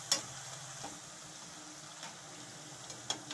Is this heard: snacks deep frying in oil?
yes